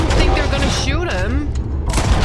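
Gunfire in Red Dead Redemption 2, a quick burst of sharp shots followed by a sweeping, wavering tone as game sound and effects mix at moderate loudness.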